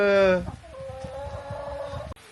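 Hens in a chicken coop in a snowy setting cluck and call close by. A loud drawn-out squawk is followed by a steady run of soft, rhythmic clucking.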